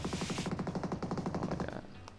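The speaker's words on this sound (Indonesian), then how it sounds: "Ada yang nembak di depan gue" Rapid automatic gunfire in a shooter video game rattles out in a fast, even burst lasting nearly two seconds, then cuts off, loud and close.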